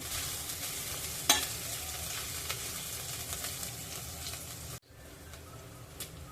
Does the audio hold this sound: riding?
no